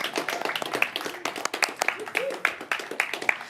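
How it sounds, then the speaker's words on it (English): Audience applause at a conference stage welcomes new MVPs, a moderately loud, patchy spread of individual claps over a few seconds, with talk faintly underneath. "Let's give them a huge round of applause as well."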